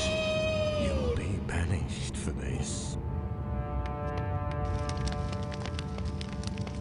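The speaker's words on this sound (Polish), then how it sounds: "Ale kotka, gdzie jest kotka?" A drawn-out cat meow from the game Harry Potter and the Philosopher's Stone rises and bends near the start, followed by a steady mechanical hum and rain-like patter with voices in the background.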